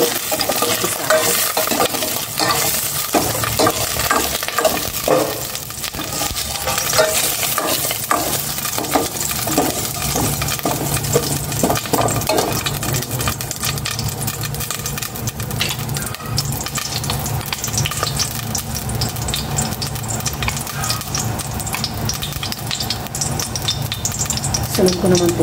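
Food fries in hot cooking oil in a home kitchen, sizzling loudly and continuously while a utensil stirs and clinks against the pan, up close with no speech.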